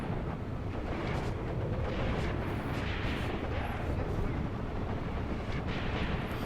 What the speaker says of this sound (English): Okay, the artillery's working in our favor. Maybe we've actually got some arty coming in.